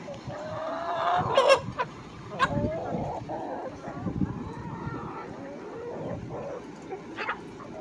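Backyard chickens peck and cluck over a pile of dewberry scraps from jam-making, with soft clucks, a few sharper squawks and scratching close by under low background noise.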